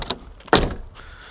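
The door of a 1996 Volvo 440 car gives a faint click and rattle followed by a solid, close thunk as it shuts, then quiet.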